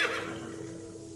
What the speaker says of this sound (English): replaced by the sounds of horses in their stables